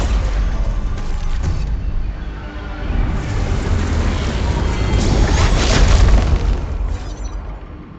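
A loud, sustained explosion rumbles in the video game Arknights: Endfield as an anchor is destroyed, with heavy booming and crashing debris that swells and fades over several seconds, and no voices.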